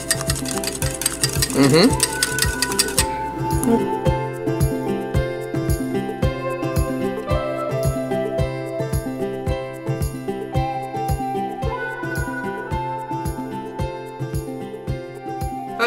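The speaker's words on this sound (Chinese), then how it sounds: "蛋白之后呢，然后准备一个，这个叫做搅拌棒" A whisk or mixing tool beats egg whites in a bowl, a steady, fast rhythmic clatter that runs loud throughout, with a sharper tinkling stretch near the start.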